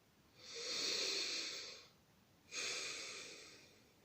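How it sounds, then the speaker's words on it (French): Two deep breaths drawn in through the nose during a guided meditation, each a soft, close airy rush lasting over a second, separated by a brief pause; no talking. "Il va prendre 3 grandes inspirations par le nez."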